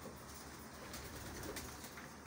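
Young pigeons cooing on a rooftop, a soft, low, continuous murmur of calls under steady background noise with no speech.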